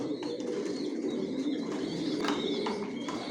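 Racing pigeons fill a breeding loft housing about 200 pairs of original racers, with steady overlapping cooing and soft calls throughout, close and dense with no pauses.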